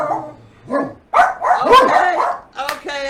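Several dogs bark and yip in loud bursts, mixed with voices talking around them and a person imitating barks.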